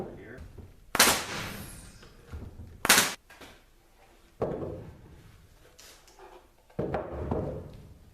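Pneumatic nail gun firing into 2x4 sawhorse beams during a DIY build, with two sharp, loud broadband shots about two seconds apart followed by fainter knocks and handling noise.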